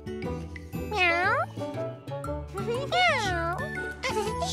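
A cartoon cat gives two drawn-out, wavering meows, loud and close, separated by a short gap, with light background music and a chime tinkling underneath.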